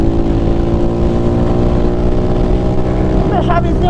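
A Honda Pop 110i motorcycle with a changed drive ratio revs hard on the road, its steady loud engine drone holding throughout, close to the rider with a slight pitch shift near the end as a gear is engaged.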